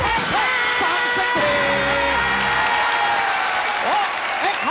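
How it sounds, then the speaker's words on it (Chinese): Studio audience applause on a Taiwanese TV variety game show, loud continuous clapping with some cheering throughout, while a host's voice talks over it. "掌声"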